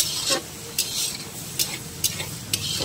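Whole cardamom pods and cloves with cinnamon sticks fry in a pan, a soft steady sizzle broken by several sharp scraping stirs every half second or so, close and fairly quiet.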